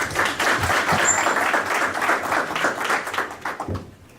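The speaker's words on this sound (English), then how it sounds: "Meetup clap for Aussie Steve" A crowd at a real estate investors meetup applauds loudly and continuously, a dense wash of hands that holds steady before tapering off at the end.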